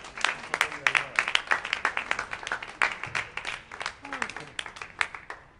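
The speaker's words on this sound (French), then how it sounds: "Super, on peut s'applaudir." A small group at a laughter yoga session in Paris claps together in a brisk, uneven burst of applause lasting several seconds, fairly close.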